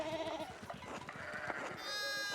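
Video game sheep bleating repeatedly in a wavering, nasal tone, fairly close and clear, with a brief shift in tone near the end and no talking over it.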